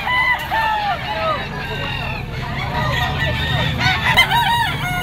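A white-legged bull stag and other roosters at a pet market crow loudly nearby, several drawn-out calls overlapping with clucking fowl, while people talk in the busy background.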